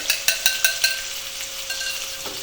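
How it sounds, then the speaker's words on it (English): A quiche egg mixture is poured into a pan of frying bacon: a bright, steady sizzle with a quick run of sharp spattering pops early on, close and fairly loud, with no talk. "take my egg mixture and pour it in there"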